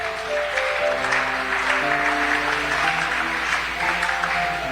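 Sustained applause from a church congregation, steady and dense throughout with a faint undertone of voices and music beneath the clapping.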